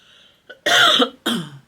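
Two harsh coughs close to the microphone, one after the other with a short gap, preceded by a faint throat sound.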